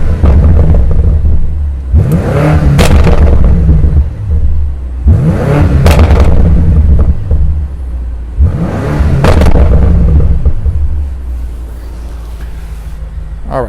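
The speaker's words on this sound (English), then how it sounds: "let's give it a few revs here" A 2021 BMW M5 Competition engine revs hard three times in bursts, each roaring up and dropping back to a deep, rumbling idle between them.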